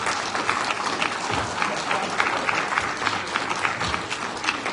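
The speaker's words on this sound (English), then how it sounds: "I think they all deserve a round of applause." A steady, dense round of applause from an audience fills the room at a morning forum in Maine, sustained clapping at even volume with a faint crowd murmur underneath.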